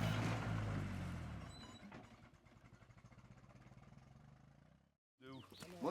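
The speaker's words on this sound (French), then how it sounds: "Et le tracteur repart comme par miracle, comme à la première heure" A tractor engine starts up again and settles into a steady, throbbing run, loud at first then chugging evenly before cutting off, followed by a brief burst of voices.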